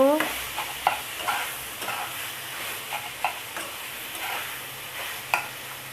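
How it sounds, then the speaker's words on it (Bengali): Minced-meat stuffing for stuffed pointed gourd fries in a pan with a steady sizzle, while a spoon scrapes and stirs in repeated, uneven strokes. "মাংসের কিমার সাথে ভালো করে কষে নেব।"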